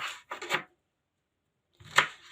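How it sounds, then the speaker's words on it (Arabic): A knife cuts through a soft, previously frozen beetroot with two short, close bursts of crunching and chopping, separated by a second of silence. "اول حاجه هنقطع البنجرايه اهي"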